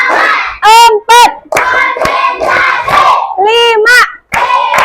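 A group of children performs a spirit clap routine, with bursts of rhythmic hand claps between loud chanted and shouted young voices, close and energetic.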